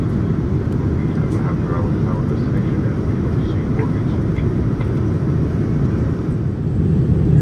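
Steady, loud airliner cabin roar during descent into Auckland on a trans-Tasman economy flight, a continuous broadband rumble with faint clicks and rattles throughout.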